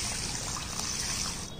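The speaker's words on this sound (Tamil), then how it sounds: "இதை இப்போ தண்ணி ஊற்றி 4 மணி நேரம் ஊற வச்சுருவோம்." Water is poured over pearl millet, urad dal and fenugreek seeds to soak them for dosa batter, giving a brief steady splashing trickle that runs the whole moment.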